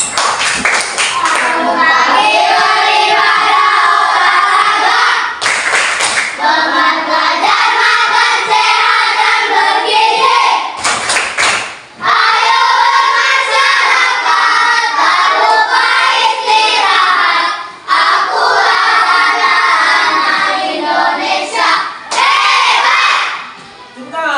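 Schoolchildren in a classroom loudly chanting together and clapping in rhythm, a dense, crowded sound that pauses briefly between rounds.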